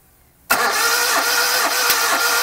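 Car engine cranked over by the starter during a cylinder compression test, with one cylinder under test: after a half-second of quiet it bursts in loudly and keeps a steady, rhythmic cranking drone to the end.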